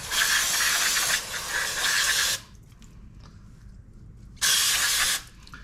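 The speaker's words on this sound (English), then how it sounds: "take this bowl, take some carb cleaner, and just clean this thing out." Carb cleaner sprayed into the float bowl of a Yamaha TTR-125 carburetor, two loud close hissing bursts over about two seconds, a pause, then another short burst.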